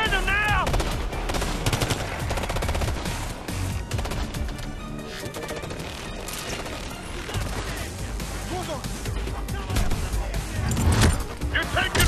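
Sustained automatic gunfire fills a firefight in Ghost Recon: Future Soldier, with loud overlapping bursts, shouted voices and battle music running throughout.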